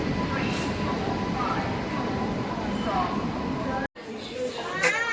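A passenger train stands at a station during boarding on a Bengaluru to Pondicherry route, giving a steady mid-level rumble and hum, a sudden brief dropout, then faint squealing tones near the end.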